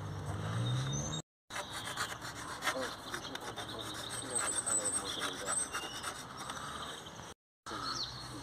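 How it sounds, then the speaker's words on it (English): Steady, close scraping and rubbing as the swollen lip of a flap on a Jaguar Land Rover F-Pace 3.0 TDV6 is rubbed down, continuous rasping strokes broken by two brief silent gaps, no talking. "So we're just going to try and rub it down a little bit."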